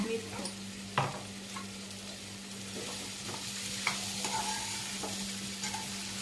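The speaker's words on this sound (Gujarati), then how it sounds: "ગલકાનો વઘાર થઈ રહ્યો છે" Ridge gourd tempering in a pan, with oil sizzling steadily under a constant low hum, broken by a few sharp clinks and scrapes of a stirring spoon against the metal.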